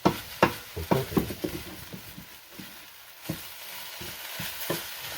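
Food sizzles in a pan on a wood stove set on high inside a converted school bus, a low steady fry punctuated by several sharp scraping and clacking stirs, close by.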